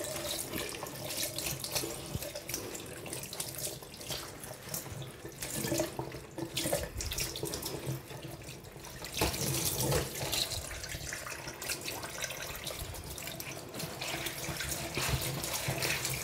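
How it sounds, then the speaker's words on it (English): Cold tap water runs steadily into a sink while dyed, wax-resisted fabric is rinsed of excess dye, a continuous splashing hiss with slight shifts in flow and no talking. "So this is it, so we just rinse with cold water."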